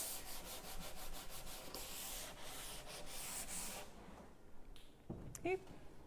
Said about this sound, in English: And then all we need to do is sand this side.